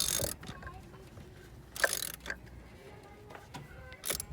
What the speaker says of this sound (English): that's when I bring in the ratchet